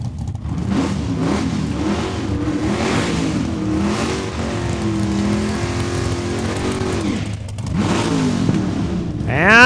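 A 1927 Roadster drag car at Saskatchewan International Raceway revs loudly and steadily, its engine pitch rising and falling in waves before a sharp climb at the end, with an announcer talking faintly beneath.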